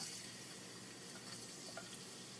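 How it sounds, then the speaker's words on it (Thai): Garlic frying in hot oil in a Thai home kitchen, a soft steady sizzle that holds evenly throughout, with a few faint stirring clicks and no voices. "พี่พิมก็จะเอา กระเทียมค่ะ ลงไป เจียวค่ะ"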